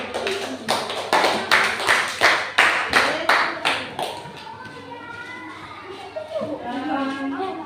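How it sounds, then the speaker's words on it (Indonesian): A classroom of children claps hands together in a quick burst of steady, close applause lasting a few seconds, then fades to murmuring voices and light background chatter. "Tepuk tangan."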